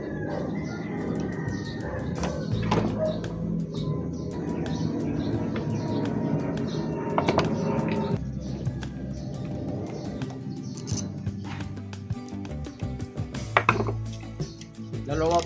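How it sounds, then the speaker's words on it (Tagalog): An electric fan with a rewound stator has its casing opened by hand, giving close clattering, knocking and scraping of plastic parts with scattered clicks, while birds chirp faintly in the background. "Ngayon, bubuksan ko muna siya."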